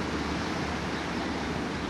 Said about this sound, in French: Je crois que vous entendez même les vagues.